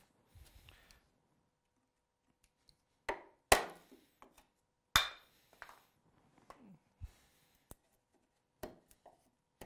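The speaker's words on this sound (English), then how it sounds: "I'll use the chisel to remove the rough piece." Chisel cutting a rough piece away from a wooden window sill, a few sharp, close knocks and cracks at irregular intervals with quiet gaps between them.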